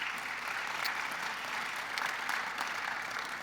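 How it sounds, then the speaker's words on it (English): Audience applause closing a climate diplomacy and energy security panel, steady even clapping from a seated crowd lasting the whole few seconds, moderately loud with no talk over it. "One more round of applause,"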